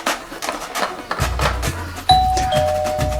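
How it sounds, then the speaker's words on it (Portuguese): A doorbell chimes once, a clear two-tone ding-dong ringing out at moderate loudness over a rhythmic, music-like background on a carnival Sunday. "Campainha tocando,"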